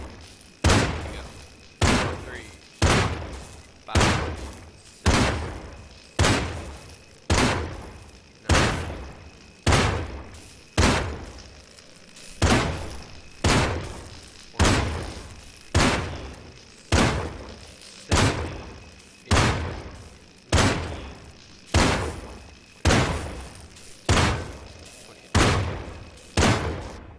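Bullets strike a target in a video game durability test, roughly two dozen sharp, loud thudding impacts landing at a steady, evenly spaced rhythm, each with a short decaying tail.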